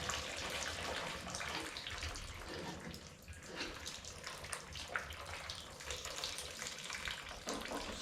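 Leftover antifreeze draining from a Minneapolis Moline tractor radiator into a pan, a steady faint trickling and splashing stream that continues throughout, with no voices.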